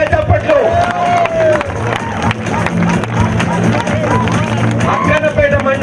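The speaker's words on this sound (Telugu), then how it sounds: "గట్టిగా చప్పట్లు" At a half marathon prize ceremony, a large outdoor crowd produces continuous loud hubbub and clapping, with an amplified announcer's voice speaking over it.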